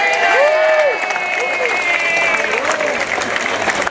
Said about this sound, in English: Round of applause to the organizers for putting on a great festival.